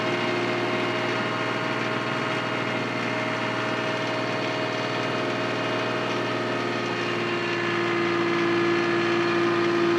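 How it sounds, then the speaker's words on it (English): A tractor engine drones steadily running a 60-inch IronCraft HD reverse tiller through a rough garden, a constant, close mechanical rumble that grows slightly louder near the end. "Oh yeah, I can hear the engine change."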